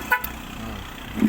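A newly installed tricycle horn gives a short, loud honk close by, over a faint background rumble.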